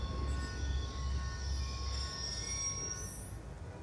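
A train rolls past in the shooter game Call of Duty: Black Ops 2, with steady wheel rumble and high metallic squealing that rises in pitch at the end, heard close and continuous with no voices.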